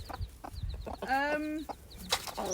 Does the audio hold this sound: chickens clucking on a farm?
yes